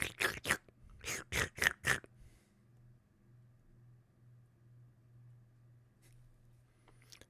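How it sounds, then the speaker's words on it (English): A cat laps water from a water dish in a very quiet house: a quick run of sharp, close lapping bursts for about two seconds, then near silence over a faint low hum. "I must have a cat drinking out of the water dish, but it sounds really, really loud in a very quiet house."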